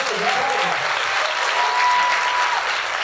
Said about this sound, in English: Can we clap your hands for that woman who just went up the stairs?